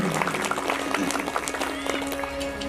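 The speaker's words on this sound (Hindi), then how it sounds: "एक बार ताली की सेवा करके उनका अभिवादन करिए" An audience at a Shree Ram Katha gathering claps in sustained, dense applause, close and continuous for a few seconds.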